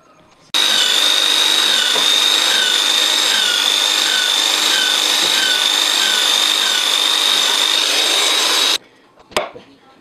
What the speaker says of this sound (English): okay, I'm drilling, but then the drill has to stop midway this wood